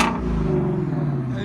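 A Ford Mustang GT350 or Dark Horse engine revs with its exhaust valves open, outdoors, giving a brief loud, steady growl up close.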